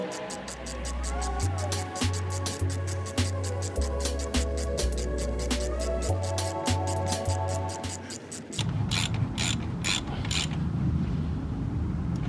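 A power driver tightens a brake caliper screw on a Citroën Xsara, giving repeated rattling, ratcheting bursts up close with a low motor hum, followed by a louder, rougher mechanical run.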